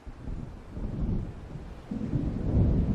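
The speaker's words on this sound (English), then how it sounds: "It seems there's a storm coming." Low rumbling thunder from an approaching storm in the game Alan Wake, rolling steadily and swelling louder toward the end, with a faint wash of rain or wind beneath it.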